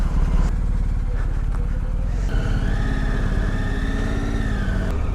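Close by, a motorcycle idles steadily in the cold on a mountain ride from Nainital to Joshimath. Its engine keeps a fast, even chug throughout, with a brief tonal whine rising partway through.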